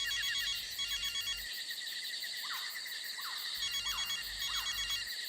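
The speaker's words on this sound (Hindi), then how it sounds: "सर, घंटी जा रही है सर।" A telephone ringing in repeated bursts from under soil, faint and distant with a steady background hum, muffled as if buried.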